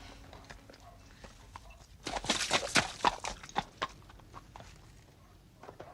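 Hooves clip-clop on hard ground in a short run of sharp, uneven knocks, moderately close, rising briefly in loudness before fading back to quiet background.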